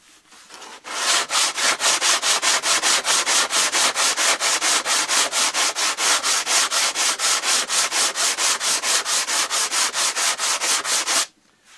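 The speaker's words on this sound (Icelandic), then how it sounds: "þá nota ég sandpappír og pússa" Sandpaper worked over the wood of a Kwik-fli Mk III model aircraft, about forty fast, even back-and-forth rasping strokes, loud and close with no talk, stopping abruptly.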